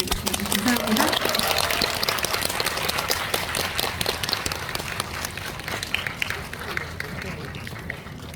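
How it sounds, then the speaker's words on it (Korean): Audience applause at a Korean film screening Q&A event in a cinema hall, broad steady clapping over about eight seconds with voices and murmuring mixed in, gradually thinning toward the end. "세 분의 핸섬 가이즈에게 큰 박수 부탁드리겠습니다"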